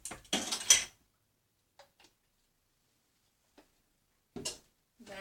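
A teaspoon clinking against a bowl while vanilla extract is mixed into batter, a cluster of clatter up front followed by a few sparse, faint taps amid near silence.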